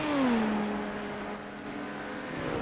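An LMP2 race car engine in a racing video game whines at a distance, a pitch dropping as it passes and then a steady, fairly faint drone.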